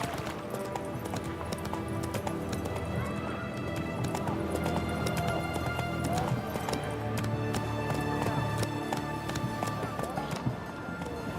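Roach the horse gallops through Witcher 3: Wild Hunt, with a steady fast clip-clop of hooves running throughout, loud and close, over game music and ambience, with an occasional whinny.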